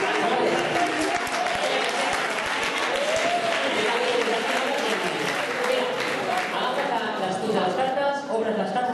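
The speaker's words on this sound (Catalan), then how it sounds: "Un bon aplaudiment." An audience applauds a volunteer at a school event, with steady, fairly loud clapping lasting about nine seconds and voices and cheers mixed in throughout.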